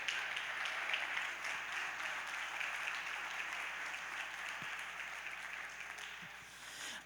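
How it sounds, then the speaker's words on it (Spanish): A church congregation applauds, many hands clapping in a continuous, fairly distant wash at an even level, tapering slightly at the very end. "Aplauda fuerte al Señor."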